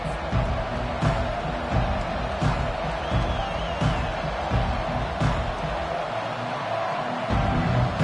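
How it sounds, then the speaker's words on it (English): A large football stadium crowd roars steadily in the distance, a dense wash of cheering and noise with a few sharp claps and thumps. "This crowd bringing the energy and noise early."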